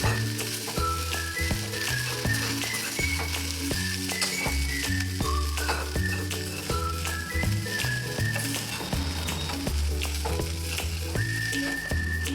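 Spice mix being stirred and fried in a pan with the cooked poha, a steady sizzle broken by repeated scraping strokes, close and continuous with no talk.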